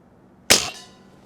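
A Crosman Bushmaster ACR multi-pump air rifle fires one sharp, close shot that stands out against quiet surroundings, followed by a short fading tail.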